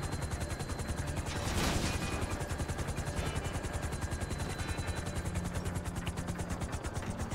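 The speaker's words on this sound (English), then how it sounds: "we successfully landed a helicopter" A helicopter comes in to land in the video game GTA V, its rotor beating in a steady rapid pulse with a constant engine drone throughout, loud and close.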